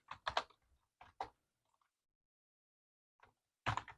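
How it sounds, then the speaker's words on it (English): Keyboard keys tapped in short bursts of clicks, a quick cluster at the start, a few isolated taps, then a dense burst at the end, close and moderately loud with quiet gaps between. "let's just type out everything"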